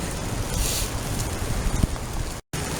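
Steady rain pours down outdoors beside a swollen, fast-running river, a broad continuous hiss of falling drops and rushing water with no voices, briefly cutting out near the end.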